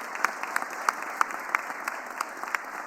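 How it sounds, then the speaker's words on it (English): Scattered hand claps ring out at a mayor's press conference, a thin, sparse round from a small group with distinct individual claps roughly three times a second over a quiet room. "Can you please give them both a huge round of applause?"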